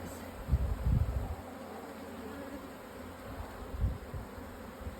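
Honeybees hum in an open hive during an inspection for the queen and eggs, a low steady buzz with a few louder swells near the start and again toward the end, fairly close and with no voices.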